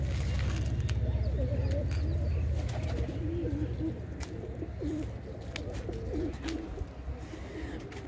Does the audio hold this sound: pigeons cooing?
yes